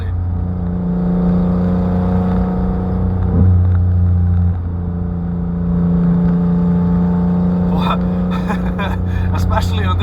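A 3-cylinder car engine with an aftermarket header exhaust, a loud steady droning hum with a slight rise and fall in revs, close by, and a rattle of clicks near the end.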